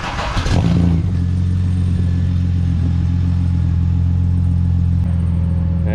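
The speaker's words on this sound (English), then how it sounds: "Let's start her up, give it a cold start while we move the other cars." A Ford AU Falcon drift car engine starting cold, with a brief crank that settles at once into a steady, quiet, low idle rumble held for several seconds.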